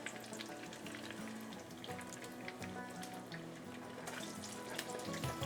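A potato cake sizzles steadily in a pan after being flipped to its second side, a continuous close frying hiss with faint crackles throughout.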